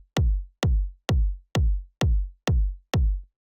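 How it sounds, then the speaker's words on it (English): Seven punchy electronic kick drum hits, evenly spaced at a steady tempo, each a sharp thump with a deep decaying low end, played alone. "just like a pretty solid, like punchy kind of techno kick"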